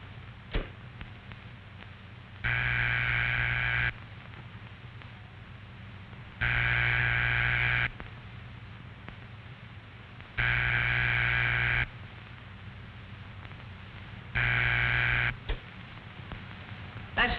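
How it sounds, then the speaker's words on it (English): Telephone ringing signal as heard by the caller on the line: four long, evenly spaced buzzing tones, each about one and a half seconds, separated by quiet gaps, loud and steady. "That's the ringing signal. It tells you that the telephone at the number you called is ringing."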